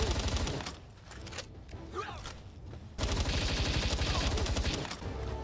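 In the video game Palworld, a gun fires in rapid bursts, with quick repeated shots in two stretches of sustained fire. A voice is heard faintly between them.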